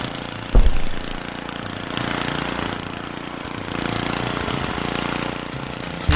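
A lawnmower engine from the Happy Wheels video game drones steadily at idle, with a loud burst near the start and another at the end.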